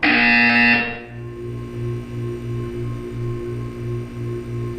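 In the Portal 2 game's wellness exercise, a loud, harsh electronic buzzer sounds for about a second, then cuts off, leaving a low pulsing machine hum.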